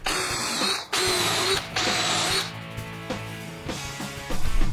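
A power drill drives 1.25-inch screws into pocket holes on a wooden bookcase, whirring in loud bursts with short pauses, followed by quieter ratcheting clicks.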